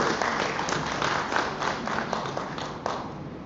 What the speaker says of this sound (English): a round of applause for Dr. Tan